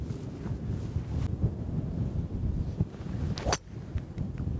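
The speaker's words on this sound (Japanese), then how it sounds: "ちょうどいいフォローの風も吹いてますし" A tailwind blows on a golf course, making a steady rumbling rush of wind against the microphone that gusts and fades throughout, with a brief sharp whoosh near the end.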